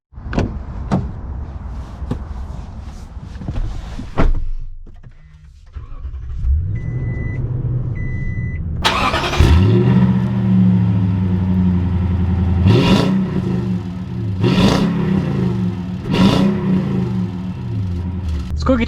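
A 2021 Toyota Tundra Limited TRD pickup: door thuds and interior clicks, then the engine starts and revs and the truck pulls away, with repeated rising engine sweeps as it accelerates through gears.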